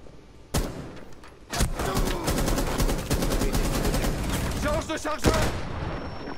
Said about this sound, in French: Je tire sur les mecs depuis tout à l'heure